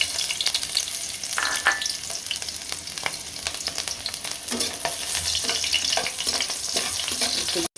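Sliced onions and green chilies sizzling in hot oil in a pan, a steady close crackle with scattered sharp pops and scraping stirs throughout, no voices.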